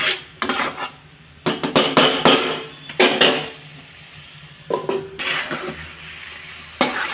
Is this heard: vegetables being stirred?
yes